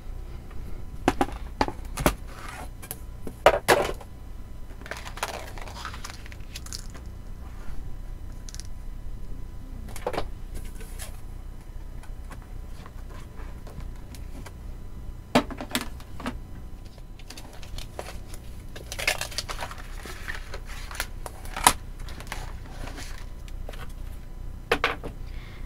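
A big craft cutting machine scores paper with a soft, steady mechanical whir over a low hum, broken by sparse clicks and brief taps as the carriage moves.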